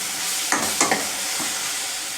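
Oil sizzles steadily in a pan for dry bombil masala, with a few soft scraping stirs breaking through the constant frying hiss.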